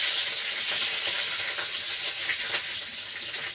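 Dried chillies, bay leaves, green chillies and onion frying in hot oil, a continuous loud hissing sizzle with a few soft stirring scrapes, close by and without talk.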